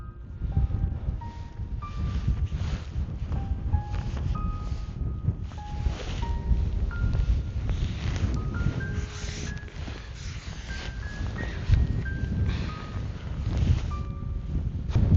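Strong wind gusts roar and buffet a microphone on a Himalayan mountain trail near Pikey Peak, Nepal. The rumble stays loud and constant throughout, with a faint melodic tune running over it.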